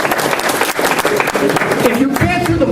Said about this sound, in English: Give her a little round of applause, please.